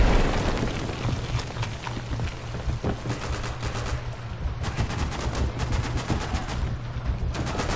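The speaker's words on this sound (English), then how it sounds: "I have no clue whatsoever right now where they are shooting from" Repeated gunfire rings out in the Day of Infamy co-op shooter, with rapid bursts and single shots layered over a steady rumbling background, loudest in a dense run toward the end.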